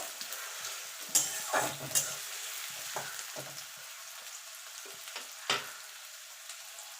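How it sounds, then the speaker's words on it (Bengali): Chopped onions fry in a pan for chicken kosha, a steady moderate sizzle with intermittent scraping stirs up close. "এবার পেঁয়াজটাকে একটু লাল লাল করে ভেজে নেবো"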